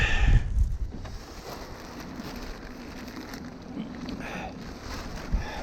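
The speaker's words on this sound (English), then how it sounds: "so it's quite windy" Strong wind of about 17 knots rushes steadily over a Bavaria 41 sailing yacht under full, unreefed sail, a continuous broadband roar with water wash and a few louder gusts.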